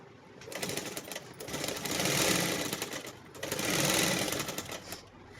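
Sewing machine stitching pant fabric, the motor running in two long sustained bursts with a brief slowdown between them, close and steady with no talk.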